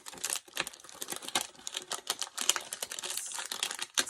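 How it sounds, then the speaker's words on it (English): Plastic packaging from stamp and die sets crinkles close by in quick, irregular bursts, without talk. "Sorry for all the crinkling."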